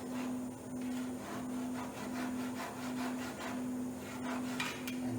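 A small hand saw cuts the end off a wooden piece turned on a lathe, giving a steady run of rhythmic rasping strokes close by with no voices.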